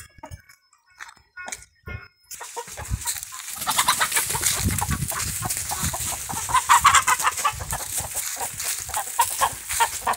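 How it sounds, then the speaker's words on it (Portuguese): Hen clucking on a Brazilian backyard farm, a few sparse clucks at first, then a dense stretch of close scratchy clucking and rustling noise continuing steadily, no talk. "Olha, gente, que já tem uma galinha."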